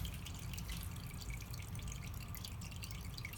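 Motor oil drips steadily from the drain of a 2017 Subaru Forester, a dense, continuous patter of drops falling close by with no talking.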